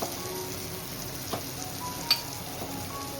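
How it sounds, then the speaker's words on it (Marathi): Spices sizzling in a pan while sautéing with soft tomato, turmeric, garam masala and coriander powder, a steady close fry hiss with a few light clicks from stirring. "चला मसाले परतून झालेत"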